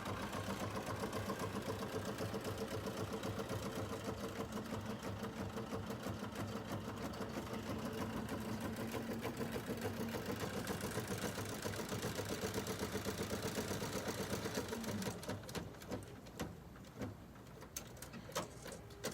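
A BERNINA 770 Plus sewing machine stitches with a steady, fast mechanical whir for about fifteen seconds, then stops abruptly, leaving quieter scattered clicks and handling sounds.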